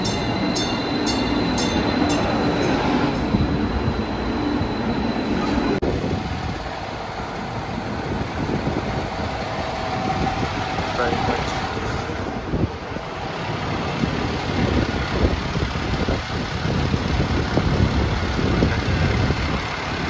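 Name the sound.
St. Louis metro train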